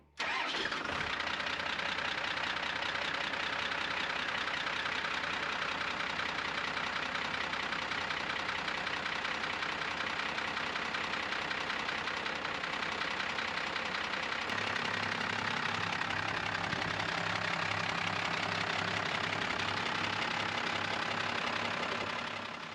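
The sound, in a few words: truck engine starting after sitting overnight on a cold morning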